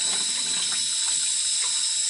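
Cold water runs from a tap over the back of a watercolor painting, a steady, close hiss of flowing water with no break and no voices.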